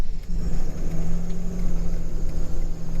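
A 2010 Ram 4500 truck drives down a street with a steady, close engine drone and low road rumble that holds at an even pitch throughout.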